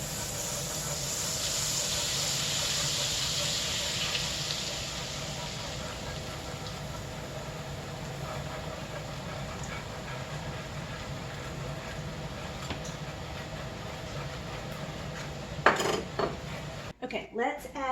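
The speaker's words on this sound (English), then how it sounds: "I'm going to whisk in a bottle of Guinness" Guinness being whisked into gravy in a pot taken off the heat for Dublin coddle, a steady scraping and clinking of a whisk against the pot running throughout, with a few louder knocks near the end.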